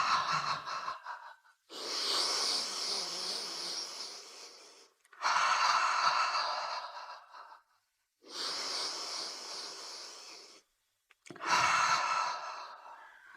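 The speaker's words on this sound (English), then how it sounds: "So a couple of more of those deep breaths." Four slow, deep breaths taken during a guided nervous-system relaxation exercise, each a long audible airy exhale or sigh lasting a couple of seconds, separated by brief quiet gaps, close and fairly loud, with no talking.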